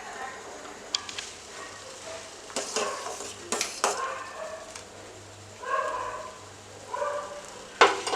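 Sweet corn frying in oil, a low steady sizzle broken by scraping stirs and clinks of a utensil against the pan, with a few louder bursts near the end.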